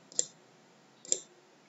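Two quiet, crisp computer mouse clicks about a second apart as a calendar icon is clicked to set a start date in a web form.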